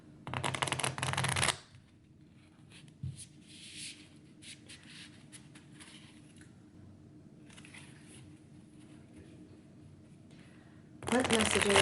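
Stiff new Moonology Oracle cards riffled and shuffled in bursts, a crisp rapid flutter at the start and again at the end, with quieter handling in between.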